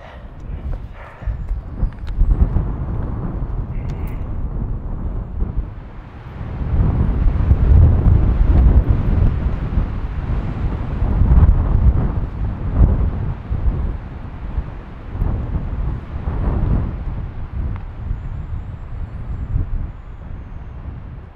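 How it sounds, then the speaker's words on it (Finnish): Strong wind in the Vätsäri wilderness of Finnish Lapland buffets the microphone in loud, gusting rumbles that swell and ease over the whole stretch, with no other sounds standing out. "Niin kova tuuli."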